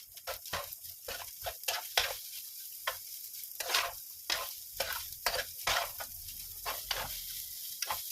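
A spatula scrapes and chops through a large batch of fried rice in a wide pan, rapid irregular clacks and scrapes over a soft continuous sizzle, close up, with no talking.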